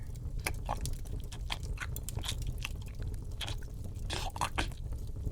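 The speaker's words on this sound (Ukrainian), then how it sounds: "та чую за ними чавкаючі звуки" Wet chewing and biting noises, with irregular crunching smacks and squelches close by, repeating unevenly against a low background hum.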